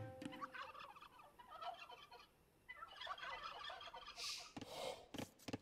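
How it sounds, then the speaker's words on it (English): Turkeys gobble repeatedly in a video game, with bursts of warbling calls over a busy, low-level backdrop and a louder gobble near the end. "I'm sacrificing turkeys."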